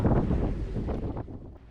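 Gusty wind buffets the microphone over a low churning rumble of waves around a sailing yacht in a channel, steady and close for under two seconds.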